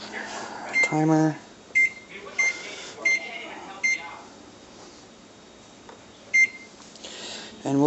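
Oven timer being set on a home oven while baking organic hot dog buns: a series of short electronic beeps, about six, spaced irregularly over quiet kitchen room tone, with faint movement between presses.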